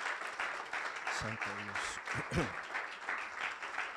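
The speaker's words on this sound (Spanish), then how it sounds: "Denle un fuerte aplauso al Señor Jesús." Congregation applause in a church service, steady loud clapping from many people throughout, with a voice briefly calling out over it.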